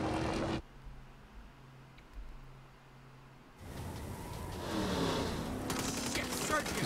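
Gunfire aimed at the tires of a vehicle in Saints Row: a burst of shots at the start, then a quiet gap, followed by sustained loud rattling fire and crashing game noise to the end.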